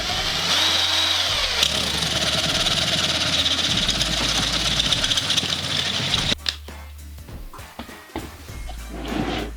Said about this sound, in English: let's start with something like a paddle bit and see what that does